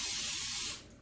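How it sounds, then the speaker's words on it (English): Baking spray with flour hisses steadily into a cake pan for a lemon pound cake, one continuous close, loud burst that tapers off at the end. "And it is covered with baking spray."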